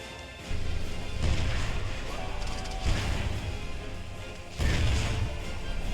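Explosions in the video game Ratchet & Clank Future: Quest for Booty, with heavy booming blasts and crashing impacts that recur over a busy, continuous game soundscape.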